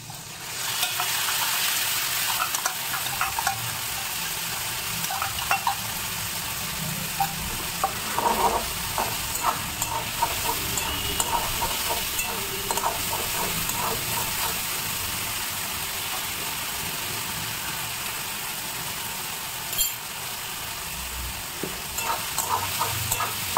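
Ginger, cumin, coriander and green chillies sizzle steadily in a hot pan, a loud, continuous frying hiss with occasional stirring scrapes and spatters throughout.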